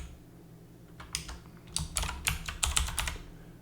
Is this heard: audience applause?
no